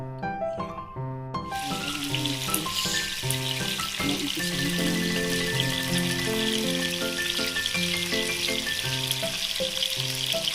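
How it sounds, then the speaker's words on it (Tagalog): Fish sizzles steadily as it fries in a pan for pinangat, a constant crackle running under louder background music throughout. "Ayan, prito na siya."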